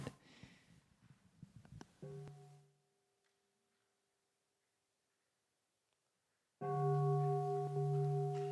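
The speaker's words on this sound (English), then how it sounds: "let us enjoy one sound the bell" A single bell is struck once at a monastic gathering and rings with a sustained, slowly fading tone, then falls silent before a second loud, steady tone enters near the end; faint room noise precedes the strike.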